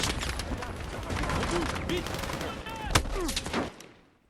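Gunfire in the Battlefield 6 solo campaign at Gibraltar, with sharp broadband shots and bursts crackling over a dense battle din, a few louder reports near the end before it cuts off.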